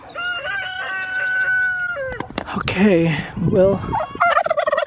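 A small farm flock of turkeys gobbles loudly and close by in a run of repeated, warbling calls, with a few quick spoken words slipping in between.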